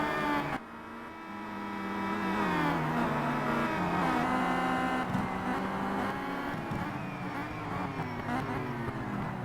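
Race car engines in the Simraceway racing game during a WTCC championship round at Sonoma Raceway, with BMW and Volvo touring cars in the pack. Loud, steady engine whine with shifting pitch runs almost continuously, broken by one brief drop near the start.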